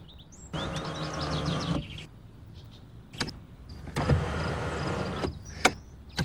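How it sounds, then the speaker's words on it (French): Motorized sunroof of a 1997 Renault Megane tilting open: two sustained electric motor whirs with small squeaks, separated by short clicks and a few sharp mechanical knocks, close and fairly loud inside the car. "Regardez, le toit ouvrant peut s'entrebâiller comme ça."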